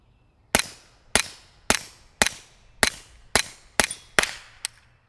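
Retay RXP22 pistol firing Remington subsonic ammunition, nine sharp, evenly spaced shots at about half-second intervals, one with a weird pop, loud and close with short decays and no talking.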